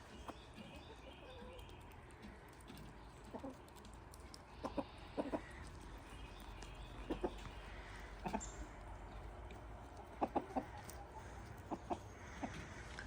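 Backyard chickens, including a white to light gray hen, cluck in short scattered bursts over a quiet, faint outdoor background, with soft irregular calls spread throughout.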